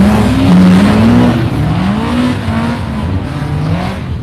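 Racing cars collide during a rally stage, with loud engines revving and changing pitch, tires roaring and scrabbling on the surface, and a busy, close, continuous motorsport din with no talking.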